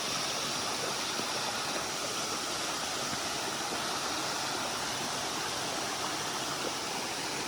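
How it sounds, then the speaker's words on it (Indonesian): A mountain water source on the Gunung Kencana hiking trail in Sukamakmur, Bogor, with water pouring in a loud, steady, broadband rush, close by and unbroken throughout. "Sumber air."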